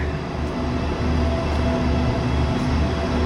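A sleeper train stands at a Bangkok station platform, giving a steady, loud low rumble with a constant mechanical hum and faint tonal whine, continuous throughout with no voices.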